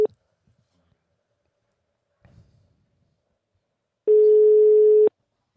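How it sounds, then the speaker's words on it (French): A telephone ringback tone sounds as a single steady electronic beep lasting about a second, clear and prominent against near silence, after a brief snip of a tone at the start and a faint rustle. "Ça appelle."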